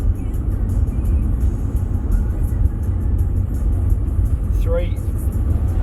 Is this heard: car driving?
yes